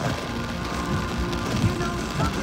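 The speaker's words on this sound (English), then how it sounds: "A lot of rain coming down from Laura." Heavy rain from storm Laura pours down on a street in South Norwalk, Connecticut, a dense continuous patter on surfaces with low rumbling, near and steady, with faint voices beneath.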